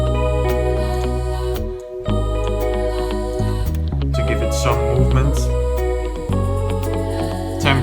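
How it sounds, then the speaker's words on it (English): A bass line and ticking hi-hat drive a bedroom-pop beat, looping steadily alongside guitars and choir pads, with a brief spoken voice over the music. "Second bar, I add the bass. I also added a hi-hat."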